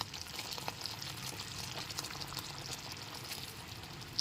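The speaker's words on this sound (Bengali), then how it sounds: "এতে আমের পাল্পটাকে দিয়ে দিচ্ছি এক হাতা করে আমের পাল্প দেবো আর এইরকমভাবে একটু নেড়ে দেবো" Mango pulp is ladled into melted sugar in a pan and stirred, giving faint, soft wet pouring and gentle scraping under quiet background hiss.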